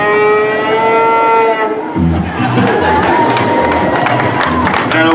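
A performer's voice imitates a cow's long, drawn-out moo at a live hillbilly-themed stage show, then an audience breaks into loud cheering and crowd noise.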